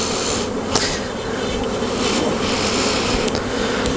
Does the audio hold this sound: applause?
no